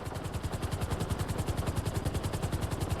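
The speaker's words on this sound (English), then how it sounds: "I'm just flying people in a helicopter" Helicopter flying in GTA Online, its rotor beating in a fast, even rhythmic chop that stays loud and steady throughout with no talk.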